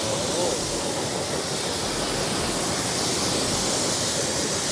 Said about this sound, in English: you'll see once I rinse it